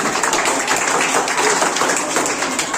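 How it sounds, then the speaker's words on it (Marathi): A quiz audience applauds a correct answer with dense, steady clapping that holds at full strength for the whole short stretch, close and loud, with no voices over it. "उत्तर बरोबर आहे टाळ्या वाजल्या पाहिजेत"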